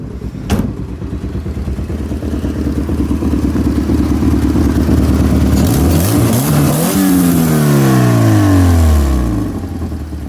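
A rowdy car engine with a manifold leak, freshly fitted with a new timing belt, idles loudly with a ticking exhaust rasp, then revs up sharply and winds back down, close and continuous.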